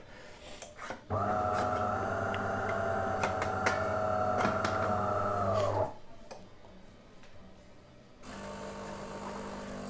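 A coffee machine starts up with a loud, steady mechanical hum and whine for several seconds, then cuts off, followed by quieter clicks and background noise.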